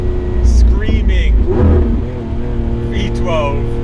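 A Lamborghini Aventador SVJ Roadster's V12 engine revs hard with the roof off, loud and close, rising and falling in pitch while someone talks over it.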